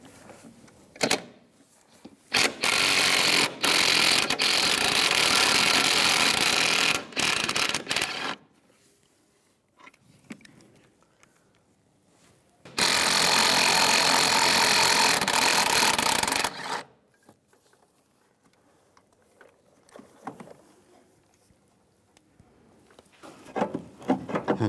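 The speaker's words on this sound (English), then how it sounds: "There's two nuts you have to take off that are on either side of the master cylinder. Use a 15mm socket." A ratcheting socket wrench with a 15mm socket removes the nuts from the brake master cylinder of a 2002–2009 Chevy Trailblazer. Close, loud bursts of rapid clicking come in two long runs of several seconds, with short clicks and quiet pauses between.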